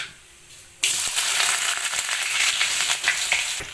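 Chopped shallots drop into hot oil already popping with mustard seeds for a Kerala nadan curry, and a loud, dense sizzle bursts in after a quiet start and keeps crackling steadily to the end.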